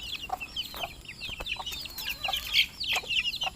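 Several chickens cluck and chatter close by in a busy, overlapping flurry of short calls.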